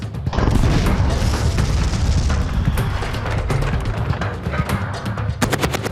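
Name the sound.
gunfire from machine guns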